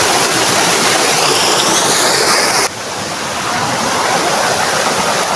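Anyap Falls in Tanay roars as a loud, steady broadband rush of falling water, continuous and close, with a brief dip midway before resuming.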